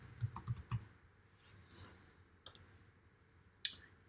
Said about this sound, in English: Then we're going to click here and type Audiente.